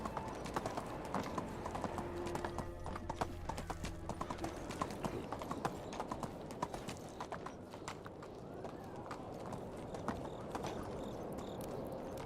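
Hooves clop in an irregular rhythm against a muffled background near stables in the video game Medieval Dynasty, with a brief whinny-like tone early on and no talking.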